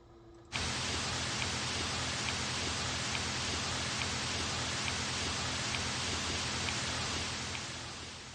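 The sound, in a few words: hiss sound effect in music production tutorial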